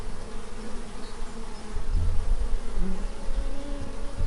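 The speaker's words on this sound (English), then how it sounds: "gently guide your attention back to the bees, back to their movements, back to their sounds and their vibrant presence" Bees buzz steadily nearby, a dense droning hum that swells slightly midway as individual insects pass closer.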